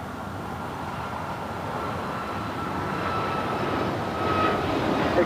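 A Volaris airliner takes off from runway 25 right at LAX, its deep engine roar heard from a distance and swelling slowly into a broad, steady rumble.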